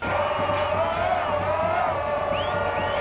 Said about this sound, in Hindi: वहाँ लंबे समय से इस इंतजार में बैठे लोग जश्न में डूब गए।